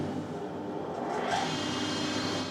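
An iTech 260SS planer thicknesser planes a piece of spruce with dust extraction running, a steady broadband roar that swells slightly partway through, close and continuous with no talking.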